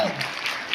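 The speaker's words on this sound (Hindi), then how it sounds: "इसके लिए भी हम लोग की तरफ से ताली बजाना चाहिए" An audience at a ceremony in a restaurant claps in a short, dense burst of applause that fills the moment and is heard close.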